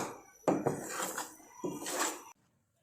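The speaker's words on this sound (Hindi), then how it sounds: "अब बर्फ़ी को हम लो फ्लेम पर कुक कर लेते हैं।" Strawberry barfi being stirred in a pan over a low flame, two bursts of scraping and clattering utensil against metal up close, then sudden quiet.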